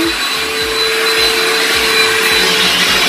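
Backpack vacuum cleaner with an edge attachment pulling pet hair from carpet edges before steam cleaning, a loud, steady close-up roar with faint rhythmic thumping underneath, no talk.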